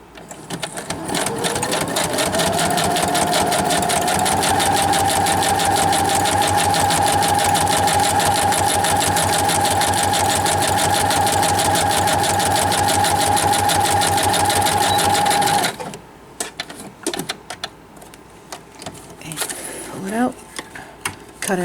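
A sewing machine stitches steadily around the whole edge of a fabric booklet, a loud, fast, continuous mechanical whir lasting about fifteen seconds before stopping abruptly, followed by quieter handling sounds.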